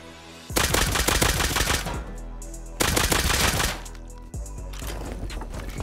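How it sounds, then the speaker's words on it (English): Rapid mechanical bursts from a nail gun in the survival game Rust: two long, loud strings of fast shots with brief gaps, then a third burst starting. "So we'll get a nail gun going."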